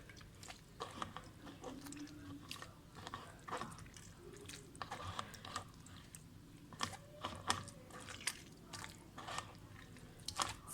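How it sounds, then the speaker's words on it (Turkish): Lemon pieces squeezed and crushed by hand for homemade lemonade, heard as quiet, close, irregular squishing and wet clicking sounds. "Şu şekilde eziyorum."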